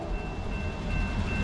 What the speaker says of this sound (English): Third train of the day, here it comes.